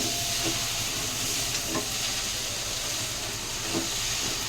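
Peas and potatoes for ghugni sizzle and hiss steadily in a pan, with a few soft scrapes as they are stirred, close and continuous throughout.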